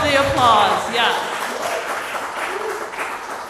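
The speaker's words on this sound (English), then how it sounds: "Yes, all of the applause, yes." Audience applause at a poetry reading event, starting under a speaking voice and continuing as a steady patter of clapping hands.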